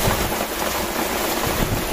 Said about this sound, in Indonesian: Oke Mas Bro, hujannya semakin deras.